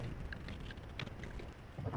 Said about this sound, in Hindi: हवा तेज नहीं है ये, असल में वो पंखा चल रहा है